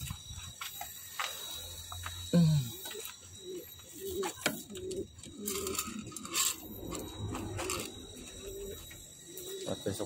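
Soft pigeon coos repeat close by amid rustling and light pecking sounds, with a faint voice in the background.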